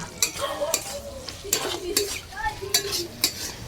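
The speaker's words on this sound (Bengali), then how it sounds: "তো আরও 1 চামচ আমি ভাজা মশলাটা দিয়ে দিচ্ছি, নেড়ে চেড়ে নামিয়ে নেব।" A spoon scrapes and stirs fried spice mix into amla pickle in a pan, making repeated close scraping strokes with light clinks of metal against the pan.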